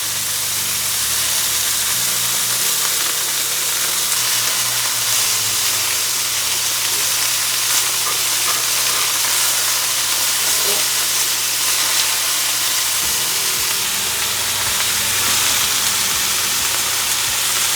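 Pork medallions fry in avocado oil in a pan, giving a loud, steady, close sizzle and hiss that runs without a break the whole time.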